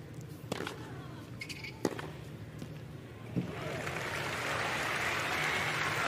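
A tennis crowd at the 2021 Cincinnati Round of 16 match between Teichmann and Osaka. A few sharp knocks come first, then applause swells and holds as a steady, fairly distant roar.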